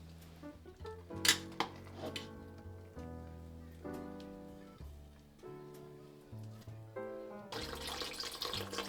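Tap water runs into a large mixing bowl while sourdough bread dough is being made. A faint, steady pour sits under ringing, clinking kitchen sounds and ends in a louder gush of water.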